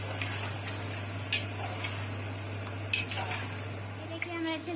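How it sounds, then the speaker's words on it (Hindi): Chicken pieces stirred in hot oil in a pan, with a soft steady sizzle and occasional scraping and clinks of a utensil against the metal. "ये देखिए मिक्स करेंगे ऑयल को और चिकन को"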